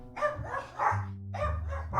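Several dogs bark excitedly at close range in quick overlapping bursts, with yips mixed in and a low continuous drone underneath.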